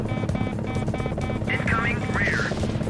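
A helicopter in the video game Gunship thumps with a steady rotor chop close behind, while a voice talks over it.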